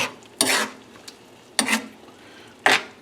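Thickening pasta sauce stirred in a pan for pappardelle with crispy prosciutto, three distinct scraping strokes spaced about a second apart, close and clear.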